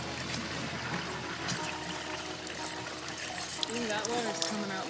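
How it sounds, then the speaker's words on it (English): Brown water pours from a pipe in a steady, trickling stream beneath background noise, with a few faint voice-like sounds near the end. "That water's coming out brown from the pipe."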